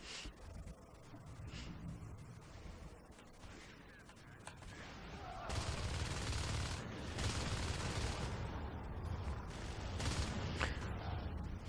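Rapid automatic gunfire from a multiplayer shooter video game crackles in dense, continuous bursts, intensifying midway and staying steady, with heavy and light machine guns involved.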